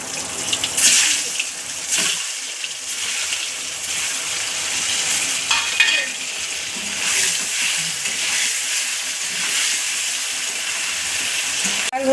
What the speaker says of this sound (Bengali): তারপরে আমি ডিমটা ফ্রাই করব।